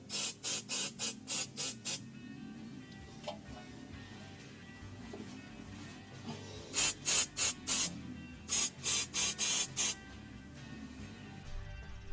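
Rapid short bursts of silicone spray lube hissing onto the exhaust hangers of a Fiat 124 Spider, in quick groups, loud and close, with quiet pauses and faint background noise between them.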